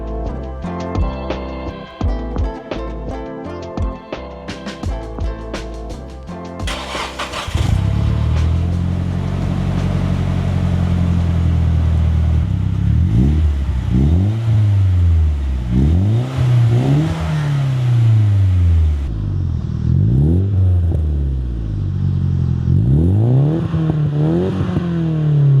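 A Nissan S15 fitted with a Yashio Factory titanium catback exhaust runs after a short musical intro, the engine held at a steady idle-like drone and then blipped through several sharp rising-and-falling revs, loud and close with no talk.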